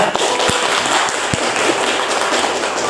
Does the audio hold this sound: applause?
yes